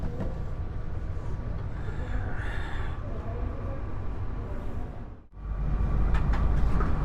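Ranggajati passenger train running from Jember to Surabaya, heard from inside a carriage: a steady rumbling roll of wheels and car noise throughout, with a brief dip before the rumble returns louder.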